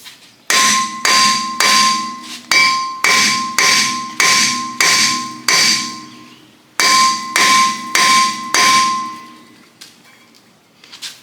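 A hammer strikes a Jeep WJ brake rotor again and again, each loud, close metallic clang ringing out before the next, in a steady series with one short pause.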